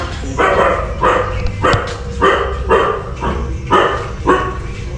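Street dogs in narrow, dark alleys of Varanasi barking repeatedly in a steady series of sharp barks, fairly close, with a low rumble of outdoor background noise underneath.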